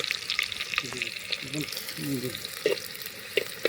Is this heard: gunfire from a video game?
no